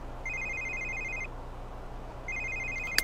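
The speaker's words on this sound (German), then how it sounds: "Bei wem bimmelt denn jetzt schon wieder ein Telefon?" An in-game telephone in The Sims 3 rings in two separate bursts of bright electronic trilling, with a short quiet gap between them and a sharp click at the end.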